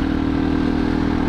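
A 2007 Husqvarna SM610 motorcycle, low-mileage and rarely started, runs steadily close by with an even, unbroken engine note for the whole short stretch.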